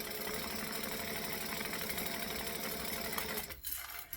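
A sewing machine stitching a zipper tape forward and then back stitching, a steady fast mechanical whir with rapid needle rhythm that stops near the end, close and clear.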